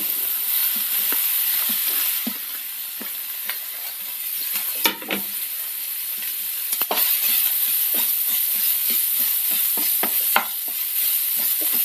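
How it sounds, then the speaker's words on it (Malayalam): Sliced onions fry in hot coconut oil in a pan, making a continuous close sizzle broken by frequent light clatters of stirring. "ചൂട എണ്ണയിലേക്ക് നമുക്ക് സവാള ചേർക്കാം"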